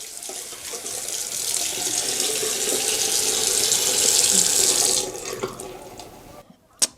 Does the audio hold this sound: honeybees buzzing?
no